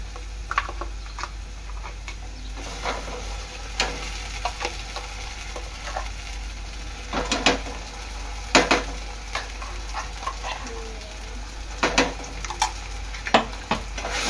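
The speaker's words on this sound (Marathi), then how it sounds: "वाटण चांगलं मिक्स करून घ्यायचं तेलात" Masala paste being stirred into hot oil in a pan for a mushroom masala, with a steady sizzle and a series of sharp spoon scrapes and knocks against the pan, close and fairly loud, with no talking.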